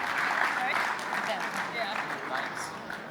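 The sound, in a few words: conference audience applause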